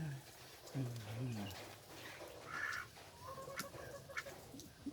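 A chicken clucks a few times nearby in short bursts while people talk over it in the background.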